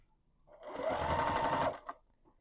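A sewing machine stitches a corner unit onto a quilt block, one close burst of rapid mechanical whirring for about a second, followed by a brief clunk as it stops.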